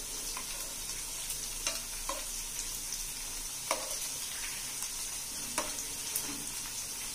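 Soya chaap frying gently in oil in a pan, a steady close sizzle with occasional soft scrapes and taps of a spoon as the pieces are turned, no talking.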